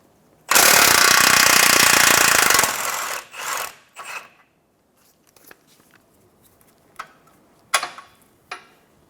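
Power tool, likely an impact wrench, driving a 22mm socket on a lower control arm bolt of a 2014-2019 Toyota Highlander, one loud sustained burst of about two seconds, followed by a few short metallic clanks and rattles.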